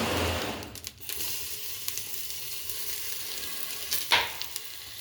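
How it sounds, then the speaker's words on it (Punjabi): Crushed garlic with cumin seeds and asafoetida sizzles in hot oil for pav bhaji, a steady close frying hiss with stirring clinks and a sharp burst near the end. "ਹਿੰਗ ਪਾ ਕੇ ਕਿਤੇ ਅੰਦਰ ਜੀਰੇ ਪਾਤਾ ਨਾਲ ਇਹ ਕੁੱਟਿਆ ਹੋਇਆ ਲਸਣ"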